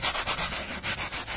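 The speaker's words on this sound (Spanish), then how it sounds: "Vamos retirando el exceso de suciedad." A pad wiping and drying a surface during vehicle detailing, a rapid series of soft, close rubbing swipes in an even rhythm, fairly loud, with no voices.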